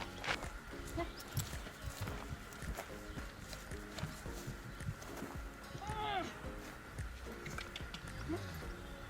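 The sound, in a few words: loose horse walking, hooves clip-clopping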